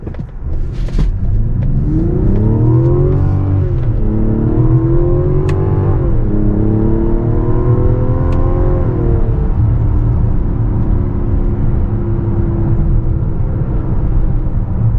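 Mazda CX-70 engine revving hard to high RPM, rising harmonic tones climbing through several upshifts before settling into a steady loud drone, close and continuous with no talk.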